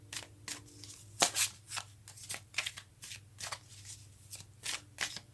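Tarot cards being shuffled by hand in repeated quick riffling bursts, close and crisp with short pauses between, no voices over them.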